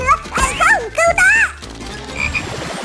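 Frogs croak loudly and close by in a few short, warbling calls with a cartoonish, bouncy tone, in a Vietnamese kids' paper fidget toy craft setting, then fade into quieter background sound.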